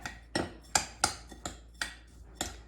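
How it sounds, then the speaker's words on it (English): A spoon clinks sharply against a bowl about seven times in an uneven rhythm while gluten-free green bean topping with garlic and pepper is mixed, close and fairly quiet with no talking. "now I'm just gonna mix it all up"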